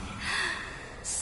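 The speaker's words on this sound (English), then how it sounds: "Listen, it's breathing." A creature breathing in the Honkai: Star Rail video game, heard as a single soft, airy breath that swells and fades, followed by a brief hiss, close and fairly quiet.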